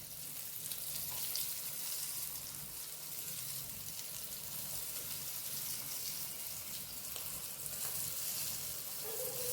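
Sweet potato cutlets frying in hot oil for breakfast, giving a soft, continuous hissing sizzle at an even, fairly low level with no talking.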